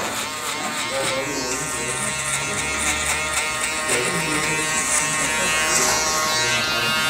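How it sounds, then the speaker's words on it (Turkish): A small electric hair clipper buzzes steadily and close up as it trims a low skin fade, running continuously with a dense, bright drone and no talk over it. "Ufak makineyle aldığım yerlere, bölgelere vuruyorum epilasyon."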